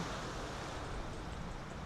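Waves rolling onto the shore of Tokyo Bay at Futtsu, a continuous broad wash of surf mixed with wind rumble, steady and fairly distant.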